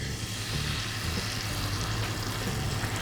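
Whisked eggs scrambling in a pan over low heat, a soft steady sizzle with faint stirring, close and continuous.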